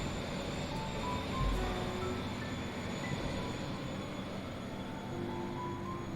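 An intercity train with Einheitswagen coaches rolls into a station in the railway game Transport Fever 2, giving a steady rumble of wheels and running noise at moderate level, with faint squeals over it and no talking.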